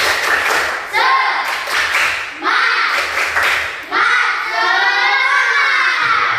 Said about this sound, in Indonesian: coba dulu kita melakukan tepuk semangat